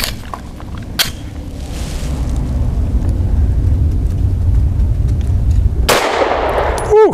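Sharp gunshots from a BUL Armory Axe pistol firing Koenig's 110-grain brass-cased jacketed hollow point rounds, with two loud cracks a few seconds apart over a low rumble outdoors, and no talking.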